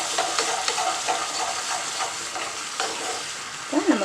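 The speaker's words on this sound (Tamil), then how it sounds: "ஆஃப் பண்ணிவிட்டு ஒரு டேபிள் ஸ்பூன் தண்ணி ஊற்றுறேன்." A tablespoon of water poured into hot caramelized sugar syrup on a just-switched-off stove, giving a loud continuous hiss and sizzle with faint stirring scrapes and a soft clink near the end.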